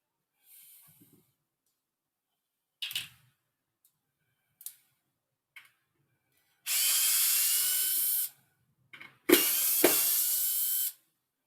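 A power drill backs screws out of a glued wooden board: brief whirring bursts and clicks, then two longer loud runs of the drill, close by, with quiet gaps between.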